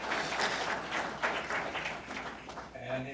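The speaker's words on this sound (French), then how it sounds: "Vous pouvez applaudir." Symposium audience applauding someone, a steady wash of claps at moderate distance lasting throughout, with some talk or tonal sound entering near the end.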